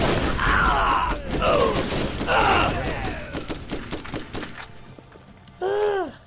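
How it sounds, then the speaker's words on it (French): Gunfire from an automated turret in the Borderlands video game, loud rapid bursts layered with other game effects, ending with a short ringing electronic tone. "C'est bien ma tourelle, elle fait du bon travail, je suis content."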